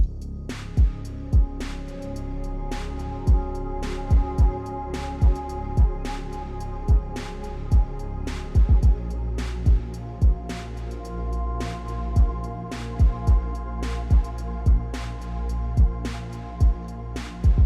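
Mellow lo-fi beat for ambient CSGO surf, warmed with RC20 vinyl noise, reverb and a cassette-style effect, carrying a steady kick and snare pulse under sustained chords with soft rolled-off highs, heard alone.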